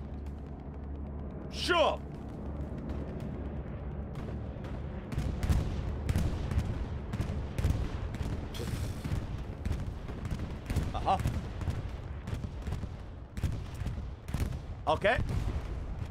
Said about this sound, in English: is that a bombing run?